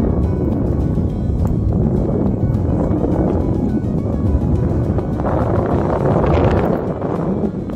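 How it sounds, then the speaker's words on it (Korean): Cold winter wind blows steadily across a rocky mountain ridge during a predawn hike on icy trails, a loud, continuous roar buffeting the microphone with no talking. "점점 고도가 높아지면서 겨울의 매서운 바람이 온몸을 감쌉니다"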